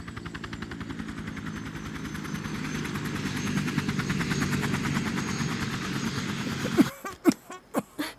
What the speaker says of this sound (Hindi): हमने हेलीकॉप्टर को टावर पे उतार दिया।